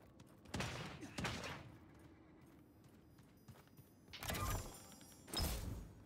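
Bursts of rapid gunfire in a game on Xbox One, two volleys early and two later, separated by quieter gaps.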